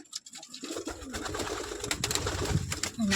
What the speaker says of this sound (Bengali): পায়রা উঠছে দেখেন